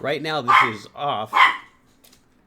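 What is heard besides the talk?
dogs barking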